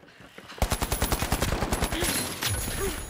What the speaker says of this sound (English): Did he have a shotgun?